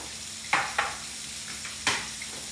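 Pork chop nuggets frying in a pan of hot oil at a rolling boil, a steady soft sizzle punctuated by a few sharp crackling pops, close and alone with no voices.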